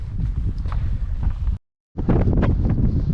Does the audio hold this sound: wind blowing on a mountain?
yes